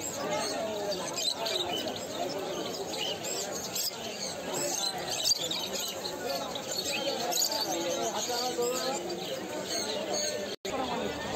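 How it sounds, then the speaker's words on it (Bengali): Caged birds at a busy bird market in Kolkata chirp and whistle in a dense, high-pitched chatter, with vendors and buyers talking nearby over a steady crowd murmur. "এই পাখিগুলো সিটি মারবে"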